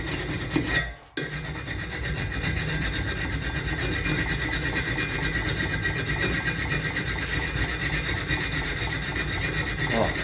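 A hand file rasps along a steel dagger blade, a dense continuous scraping stroke after a brief knock at the start, close and loud throughout.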